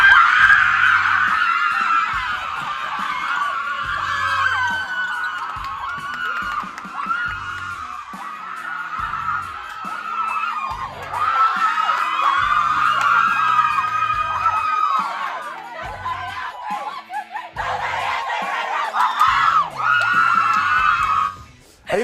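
A basketball team and crowd scream, whoop and cheer after a win, a loud, continuous wall of excited shouting that surges and dips throughout with scattered voices.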